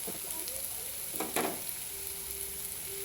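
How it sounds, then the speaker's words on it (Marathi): Vegetables, soybean chunks and spices sauté in a pan for veg biryani, giving a soft steady sizzle with a brief stirring scrape midway. A faint tonal hum runs underneath, and nobody speaks. "आणि पुन्हा एकदा याला परतून घ्यायचं आहे"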